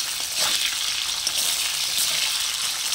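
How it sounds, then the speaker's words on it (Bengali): Potatoes frying in oil with a little salt while preparing a taroi fish curry, a steady close sizzle that holds evenly throughout with no talking. "এই তেলের মধ্যে আমি আলুগুলো কষিয়ে নেব হালকা করে।"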